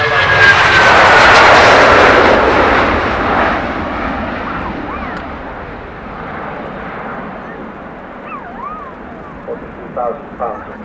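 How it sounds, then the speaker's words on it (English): A 200-passenger Russian jet airliner passes overhead at the 1992 Farnborough Air Show, its loud engine roar peaking early and then fading into the distance while a voice speaks over it. "200 passenger aircraft going through certification on its way to becoming the first Russian airline"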